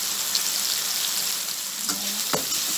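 Chicken and vegetables in a stir fry sizzle loudly and continuously up close, broken by a couple of quick spatula scrapes near the end.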